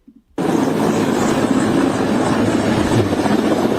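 A helicopter crashes in a played clip, heard as a sudden loud burst of broad roaring, rumbling noise that starts abruptly after a near-silent moment and keeps churning steadily, with no talk over it.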